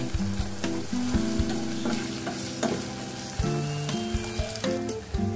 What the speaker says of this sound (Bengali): তত সময় তেলের মধ্যে মাছগুলোকে একটু ভেজে নিতে হবে।